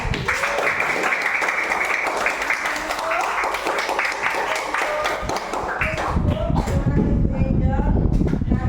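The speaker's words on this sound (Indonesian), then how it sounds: "Oke, tepuk tangan." Schoolchildren in a fifth-grade classroom at a Catholic primary school clap their hands together, a burst of close clapping and shuffling with voices of the children and teacher mixed in, turning louder and busier toward the end.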